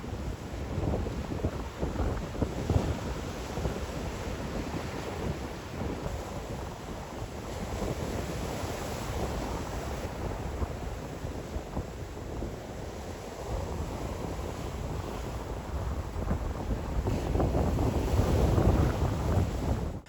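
Strong wind buffets the microphone while waves break at a ferry terminal near Tarbert on the Kintyre coast in Scotland, a continuous loud roar that swells toward the end.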